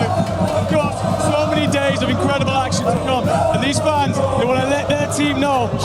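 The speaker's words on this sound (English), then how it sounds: "How do you lose with a crowd like this behind you?" Esports crowd in an arena at a Call of Duty: Black Ops 7 group-stage event, a loud continuous roar of cheering and shouting voices, with a commentator talking over it.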